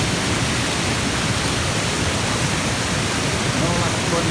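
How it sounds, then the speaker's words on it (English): Steady, loud rush of water pouring and churning continuously down a flooded stream in Scotland's Galloway during a storm, in full flow, with no pauses. "There is some water coming down here"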